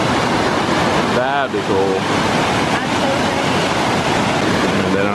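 Powerful creek water rushes under Lunch Creek Bridge in a Ketchikan rainforest, a constant loud roar with people talking briefly over it.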